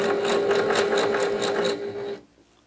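A sewing machine stitches quilt strips in a fast, even rhythm of needle clatter with a steady motor whine, then stops abruptly, leaving near silence.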